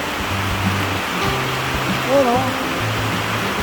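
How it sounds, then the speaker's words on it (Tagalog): Heavy rain pours down steadily in a sunny sun-shower, a dense hiss under a short spoken exclamation. "sobrang lakas ng ulan dito sa amin"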